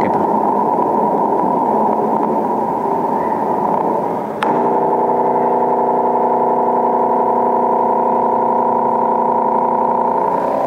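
Radio recording of a pulsar star: a hiss of static gives way to a steady, rapid pulse train that merges into a droning, buzzing hum, heard alone and fairly loud.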